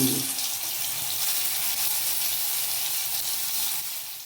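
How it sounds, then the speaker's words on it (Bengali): Paneer fries in white oil in a wok, giving a steady, bright, hissing sizzle that holds even and fairly loud throughout and eases slightly at the end, with no talking. "পনিরের সিঙ্গাড়া করবো, সেই জন্য আমি পনিরগুলোকে একটু ভালো করে লাল লাল করে ভেজে নেব।"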